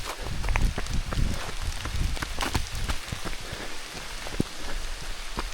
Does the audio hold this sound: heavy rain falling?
yes